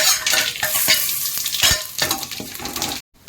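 Star anise, cinnamon, cloves, cardamom and a bay leaf fry in about three spoons of oil for biryani, a loud close sizzle broken by scraping stirs, then cutting off abruptly near the end.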